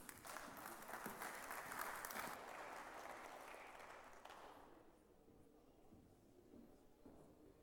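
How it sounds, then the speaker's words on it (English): A conference audience applauding the speakers, a faint, steady patter of many hands that fades out after a few seconds into quiet room tone. "Please give them applause."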